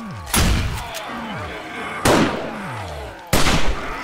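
Three loud, sharp gunshots in the zombie survival game 7 Days to Die, each a sudden blast with a decaying tail, spaced about 1.5 seconds apart over a steady game background.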